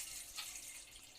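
Water pours into a pan for a sweet. The pour makes a brief, faint, steady splashing hiss with no voices.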